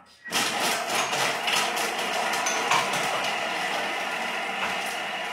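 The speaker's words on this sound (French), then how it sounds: "Et on vient hacher 5 secondes" A Thermomix chops garlic cloves at speed 5 for five seconds, starting abruptly with a loud whirring, rattling burst that carries on steadily to the end, with no talking.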